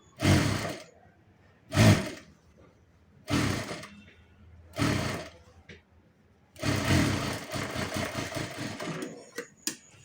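Sewing machine stitching a seam along a blouse sleeve, running in several short bursts of a second or so with pauses between, then a longer continuous run of stitching, close and fairly loud.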